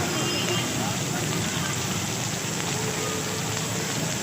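Heavy rain in Karachi: a continuous, dense hiss of downpour falling on surfaces with a steady low rumble beneath, loud and unbroken throughout.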